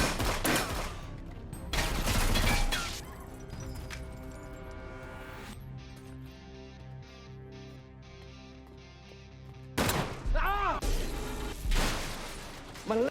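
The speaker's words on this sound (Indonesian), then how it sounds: "Aksi tembak-tembakan yang brutal pun terjadi." Rapid bursts of gunfire from a brutal shootout scene in a mafia crime film, loud volleys crowding the opening seconds, then a quieter stretch with a sustained tone before more sharp crashes and shots return.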